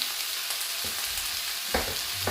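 Freshly washed asparagus hits a hot pan for a coconut vegetable stew, setting off a steady loud sizzle with a few brief stirring knocks and scrapes, no voices.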